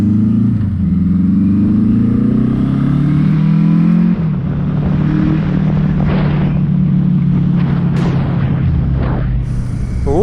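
A Suzuki GS850 Scrambler motorcycle, still hesitating a little, is ridden with a loud, steady engine drone that rises and falls in pitch, with throttle surges near the start and end.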